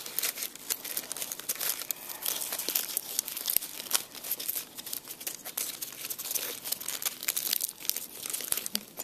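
Soft, continuous crinkling and rustling of ribbon being handled and tied, close up and fairly quiet, with no talking.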